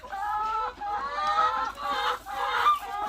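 Laying hens in a pen clucking and cackling in bursts, several calls close together, fairly loud and close with no talking.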